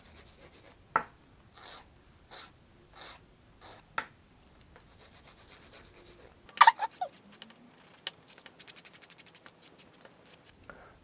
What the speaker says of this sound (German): Und dann so lange feilen,